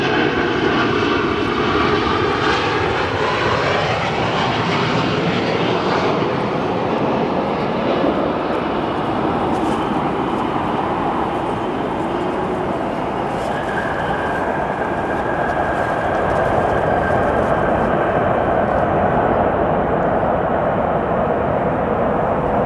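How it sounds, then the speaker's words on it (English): A passenger airliner arrives at O'Hare International Airport on a summer afternoon, with a loud, continuous jet engine roar that holds steady throughout, heard alone with no talk. "We are seeing a lot of American Airlines arrivals, not quite as many United this afternoon."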